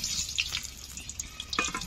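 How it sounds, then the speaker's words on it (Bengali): Pre-boiled small new potatoes fry in hot oil in a wok for Bengali aloo dum. The sizzle is soft and steady, with faint bubbling and splashy crackles close by. "আলুগুলো ভেজে নেব।"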